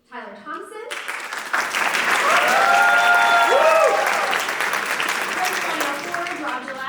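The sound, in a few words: audience cheering and applauding for band directors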